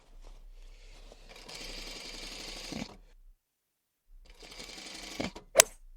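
A sewing machine top-stitches a box cushion cover for upholstery, running in two steady bursts of rapid stitching separated by a brief pause, then finishing with a sharp click.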